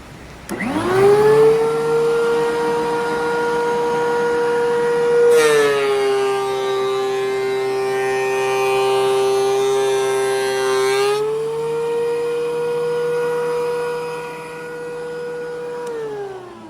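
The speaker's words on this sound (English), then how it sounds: "So I wanna lower the planer down" A thickness planer runs loudly and steadily with a high whine as it planes a wooden stool top, its pitch dropping and its noise roughening for about six seconds while the board feeds through, then winding back up.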